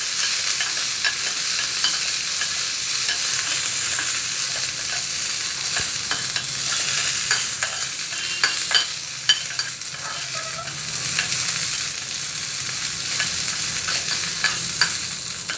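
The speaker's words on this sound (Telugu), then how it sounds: "చూడండి ఎంత చక్కగా ఫ్రై అయిపోతూ ఉన్నాయో." Banana flower petals frying in a pan while being stirred, a loud continuous sizzle close by with scattered clicks and scrapes of the spatula, growing busier midway, with no voices.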